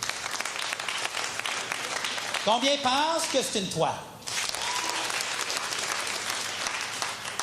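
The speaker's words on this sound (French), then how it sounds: "Applaudissez." Audience at a French comedy sketch show applauding, steady crowd clapping throughout, briefly interrupted by a performer speaking over it before the clapping continues.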